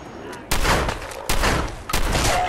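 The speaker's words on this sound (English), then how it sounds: "Whenever I just hear gunshots off in the distance." Three loud gunshot bursts ring out in the Fallout 4 Far Harbor game, spaced about a second apart, each with a sharp onset and a short reverberant tail.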